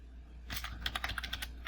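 Quick run of keystrokes on a computer keyboard, close and moderately loud, about a dozen distinct clicks in an uneven rhythm over a steady low hum, with no talking.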